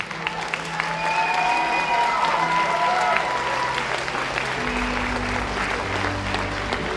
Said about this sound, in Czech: Váš velký potlesk!